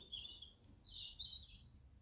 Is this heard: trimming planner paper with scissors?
no